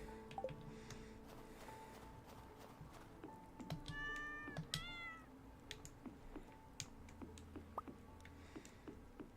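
A cat meows in a Stardew Valley game, a couple of rising and falling cries standing out over soft game music and scattered clicks, at moderate level with no talking.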